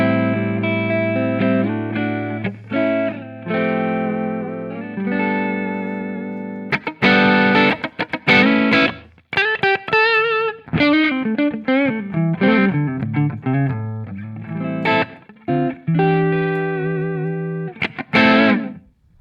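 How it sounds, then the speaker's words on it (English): An electric guitar plays a Plexi clean tone captured from an SLO 100 clone amp with reverb, strummed chords giving way to quicker single-note phrases, loud and up close, with no talking. "Next, we've got Plexi Clean, and basically this is my go-to Plexi tone"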